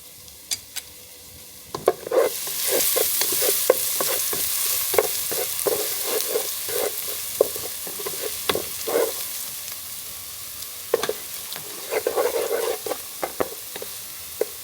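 Ingredients for Khmer yao hon fried in fat, a loud steady sizzle that swells after a couple of seconds, punctuated by repeated scraping and tapping of a stirring utensil against the pan.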